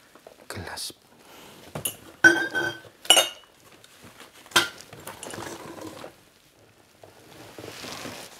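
Drinking glasses clink and clatter in short, sharp, bright hits scattered irregularly through a quiet room while someone handles them, with soft speech in between.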